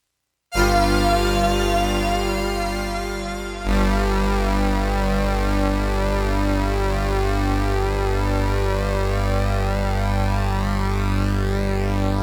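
A Roland Juno-106 synthesizer with both chorus modes engaged holds a sustained chord, its rich tone sweeping with a slow phaser-like shimmer; after a brief dip the pad returns steady and loud for ten seconds, no voices.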